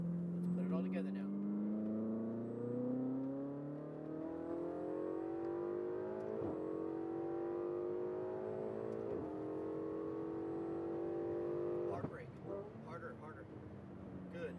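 Ferrari 488 GTB engine revving hard on a race track, pitch climbing steadily over several seconds in a loud sustained drone with brief dips at gear changes; a coaching voice talks over it.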